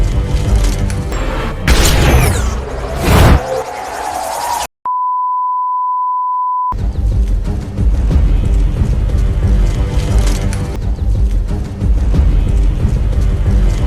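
In a film scene, a white van explodes after gunfire: loud cracking bursts and a heavy boom, then a steady electronic beep tone, followed by a sustained rumbling roar.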